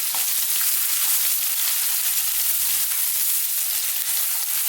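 Onions and garlic ginger paste sizzle steadily in a hot pan, a dense and even frying hiss that runs the whole time at close range.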